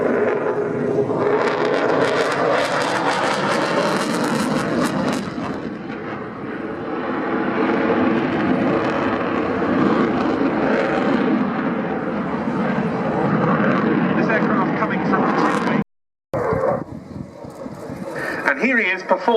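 A display aircraft firing flares at the Royal Navy air show at RNAS Yeovilton roars loudly and continuously overhead, under someone commentator's voice. The sound cuts out briefly near the end, then resumes.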